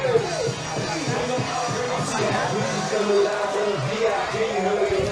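Crowd murmur in the stands at a night high school football game in Washington Township, New Jersey, a steady background hum under a commentator's continuous talk.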